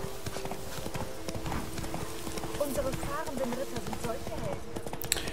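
A horse's hooves clip-clop in a steady riding rhythm in The Witcher 3: Blood and Wine, heard alongside game music and a neigh, with someone talking over it.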